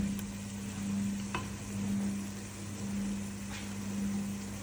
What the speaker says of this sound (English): You have to continue stirring so it doesn't burn.